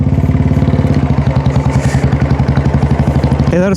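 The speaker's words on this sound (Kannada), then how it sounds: "ಈ ಸೈಲೆನ್ಸರ್ ಚೇಂಜ್ ಮಾಡ್ಸಲ್ಲ, ಸೊ ಈಗ ಅಷ್ಟು ಜಾಸ್ತಿ ಸೌಂಡ್ ಮಾಡ್ಲತ್ತದ." A Royal Enfield Classic 350 with a swapped aftermarket silencer thumps loudly at a steady idle nearby, its quick regular beat continuing until a brief voice-like sound cuts in at the very end.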